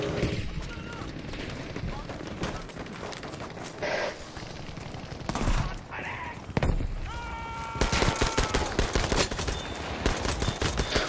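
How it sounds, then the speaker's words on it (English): Battlefield V infantry combat: rapid rifle and machine-gun fire crackles close and loud, broken by several booming grenade blasts, with someone talking in bursts over the chaos. "Now they're grenading me back here!"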